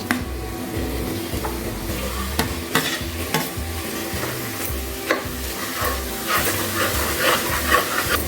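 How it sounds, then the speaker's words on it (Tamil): Minced mutton keema is stirred into a masala with hot oil separating in the pan, giving constant scraping and clanking over a steady loud sizzle. "இப்போ நம்ம வெட்டி வச்சுருக்கிற இந்த மட்டனை அதில் சேர்த்துக்கலாம்."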